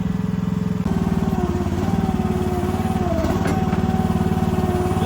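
Small single-cylinder engine of a Chinese mini excavator running close by, a steady rapid chugging idle with a faint whine and slight clatter, continuous and loud.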